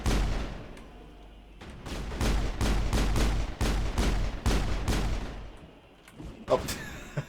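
Rapid, loud bursts of blasts and gunfire from the Mass Effect video game as the doctor's belongings are blown up, a dense rhythmic volley lasting several seconds before tapering off, with a few final booms.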